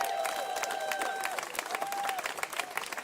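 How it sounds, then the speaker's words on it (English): A crowd applauds the conservation and construction team who moved and installed a statue. The clapping runs steadily throughout at moderate level, with a sustained whistle-like tone over it early on. "Give them a round of applause."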